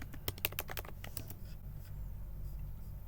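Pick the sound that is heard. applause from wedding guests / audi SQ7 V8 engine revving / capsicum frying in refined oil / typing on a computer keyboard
typing on a computer keyboard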